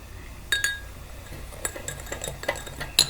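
A utensil stirs a cornstarch-and-water oobleck mixture in a bowl, giving light, irregular clinks and scrapes that come in short scattered bursts, close and fairly quiet.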